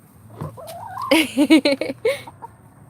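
Backyard hens vocalize close by in a quick run of short, pitched clucks and squawks. The calls rise in the middle and then taper off over a quiet background.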